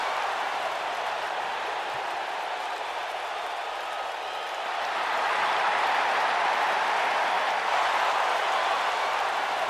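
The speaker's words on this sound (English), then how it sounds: "This crowd here in Indianapolis is certainly fired up to see the NXT GM HBK." An arena crowd in a WWE 2K wrestling video game, set in Indianapolis, keeps up a steady wash of cheering and noise, swelling louder about halfway through.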